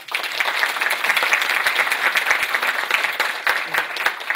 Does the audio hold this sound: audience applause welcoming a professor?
yes